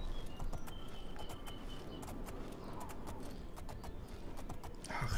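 Steady clip-clop of horse hooves while riding through sunny countryside in The Elder Scrolls IV: Oblivion, an even trotting rhythm close up, with faint bird chirps and a brief louder burst at the end.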